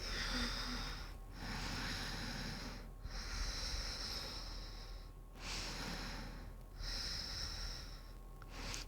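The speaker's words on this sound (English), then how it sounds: "One last round of breath." Slow, audible breaths during a prenatal yoga class, several long airy inhales and exhales in a steady rhythm, fairly close and quiet with brief pauses between them.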